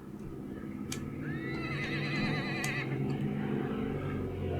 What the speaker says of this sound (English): I'm just not sure how good Feverstone's horses is that we would want to try that